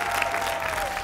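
An audience at a televised singing contest applauds after a song, a steady, even patter of many hands clapping together for the whole moment.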